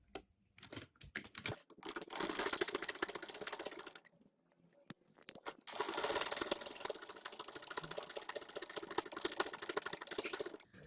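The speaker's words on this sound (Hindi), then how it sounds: "और अब हम सिलाई लगाएंगे।" A sewing machine stitches embroidered trousers in quick rattling runs, close and fairly quiet, with short pauses and a few clicks and handling noises between the bursts.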